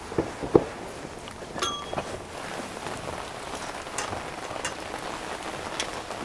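Steady rain falling outdoors and pattering on surfaces, a soft continuous hiss with a few sharper drops and clinks early on.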